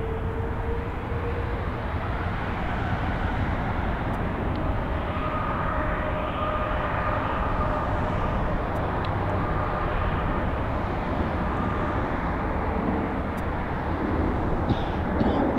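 A Hawaiian Airlines Airbus A330 airliner at LAX at sunset, a continuous loud jet roar that holds steady and broad, with no one talking over it.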